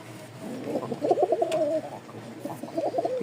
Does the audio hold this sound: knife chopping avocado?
no